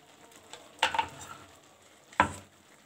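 Dry vegetable curry with chopped coriander stirred in a pan, two short scraping strokes about a second apart over a soft background sizzle, close and fairly quiet.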